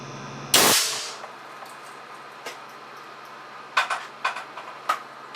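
A homemade air cannon charged to 350 psi fires at a bathroom sink, producing one sharp, loud blast followed by a few scattered clattering and tinkling hits of breaking porcelain.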